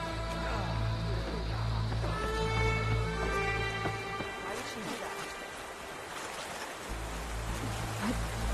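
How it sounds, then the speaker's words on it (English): Steady rain in the Horizon Forbidden West video game, a constant wash of falling water with a low rumbling bed and scattered droplet ticks, running throughout under game music and a voice speaking. "Rain."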